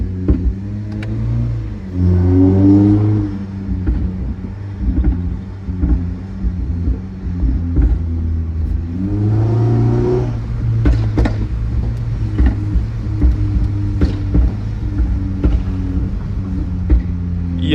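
Engine of a Toyota Camry with a pops-and-bangs tune revving up and falling back in repeated surges, loud and close, with sharp crackles from the exhaust between the revs and no talking.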